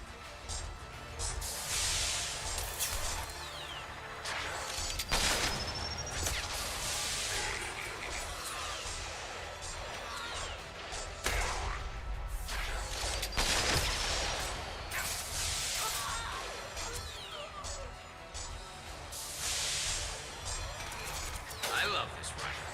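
Rifle fire and combat noise from Mass Effect Legendary Edition form a dense, continuous din with bursts swelling at intervals, mixed under ongoing talk and game dialogue.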